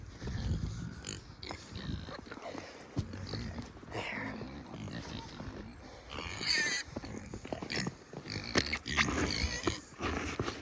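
Pigs grunt and squeal on a snowy winter farm, a dense, restless run of snorts and oinks close by, with scuffling and muffled movement throughout.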